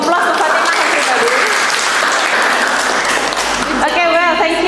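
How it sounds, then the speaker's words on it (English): Applause for a presenter in a classroom teaching session, a dense, loud wash of clapping from a group that holds steady for several seconds, with voices talking over it toward the end. "Give applause to Fatimah, everybody"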